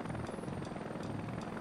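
A scout helicopter in Heliborne, armed with a 23mm cannon and rocket pods, gives off a steady loud rotor drone. The blades thump in an even pulse, about four beats across the short span, with no voices.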